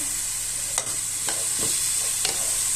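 A chicken stock cube cooks in a pan over high heat with a constant bright sizzle, broken by a few soft stirring scrapes.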